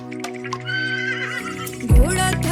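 Horse neighs in a Hindi children's song, a loud whinny ringing over the music, followed by a low thump and clip-clop of hooves.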